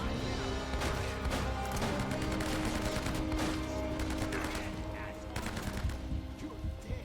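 Dense, sustained gunfire with rapid machine-gun bursts and scattered shots from the Uncharted: Drake's Fortune video game, loud and continuous, with some speech-like sound mixed in.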